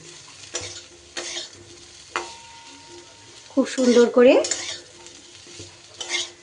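Potatoes for aloo chatpata are stirred and fried in a pan: intermittent spatula scrapes and sizzling bursts, louder in the middle, with a voice speaking briefly.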